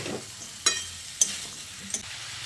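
Ridge gourd, moong dal and fried potatoes are stirred in a pan, a quiet, close scraping and soft sizzle marked by three sharp spoon clinks against the pan.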